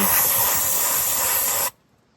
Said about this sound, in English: spray off the rest with some brake clean